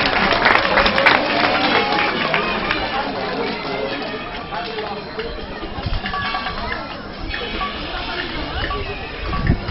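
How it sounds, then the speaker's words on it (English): An outdoor crowd applauds a dolphin at a dolphin show at Ocean Adventure, a dense, steady wash of clapping and crowd noise that stays fairly loud throughout. "How about another round of applause for a dolphin?"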